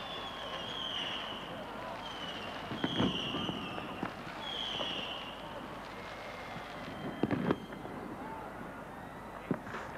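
Fireworks over Helsinki at the millennium celebration: distant bursts and crackles thud through a steady crowd murmur, with a few sharper bangs standing out now and then.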